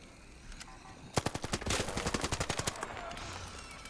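Rapid automatic gunfire in the video game Arc Raiders, a burst of a dozen or so close, loud shots in quick rhythm, followed by a fainter trailing rattle.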